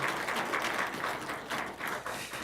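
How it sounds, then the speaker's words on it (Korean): Church congregation clapping together as a blessing during a Sunday morning service, a steady, moderately loud wash of applause with slight surges, fairly close, no talk over it. "요 세 분을 위해서 축복의 박수 한번 해주시길 바랍니다."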